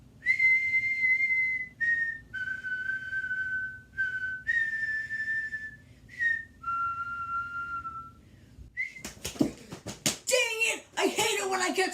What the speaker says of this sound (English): I catch myself whistling that!